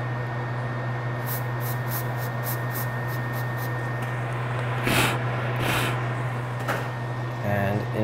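Freeze spray hisses in several short bursts onto an iPad Air circuit board during micro-soldering repair, sharp airy sprays close up over a steady electrical hum.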